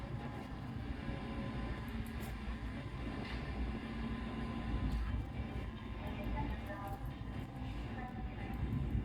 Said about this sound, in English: Believe that's an M train.